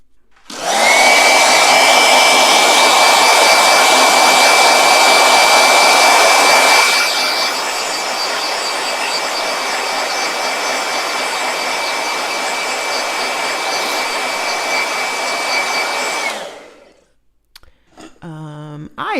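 A blow dryer runs loud and steady, a continuous whooshing roar with a thin whine on top, easing slightly partway through before cutting off near the end, followed by a brief rustle.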